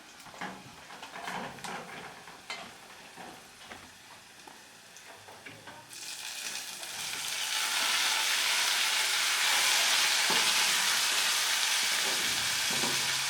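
Tomatoes dropped into a hot frying pan for vegetable rice, starting quiet with small clinks, then a loud steady sizzle and hiss that swells after the tomatoes go in and holds to the end.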